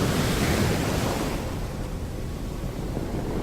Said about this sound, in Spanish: Navegaba contra el viento y las olas la golpeaban con mucha fuerza.